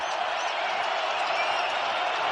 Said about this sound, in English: Crowd to its feet.